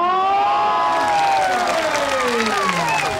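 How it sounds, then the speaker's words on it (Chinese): An audience at a night-market charity sale applauds and cheers continuously and loudly, with a long whistle-like tone sweeping down through the crowd noise. "再掌声欢迎一下"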